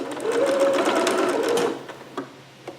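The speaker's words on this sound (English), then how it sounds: "And then back stitch there a little bit." Sewing machine back stitching a seam on a Vogue 8280 garment, a close, steady whirring run for under two seconds, then stopping with a few small clicks.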